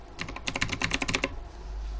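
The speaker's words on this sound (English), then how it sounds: "Now I have a mechanical keyboard" Typing on a mechanical keyboard: a quick burst of about a dozen close, crisp key clacks in an irregular rhythm, then a pause with low background hum.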